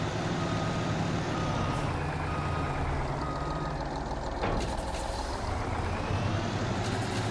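Truck reversing beeper in Farming Simulator 22, a steady repeating beep over a constant engine drone, with a brief air-brake-like hiss midway; no talking.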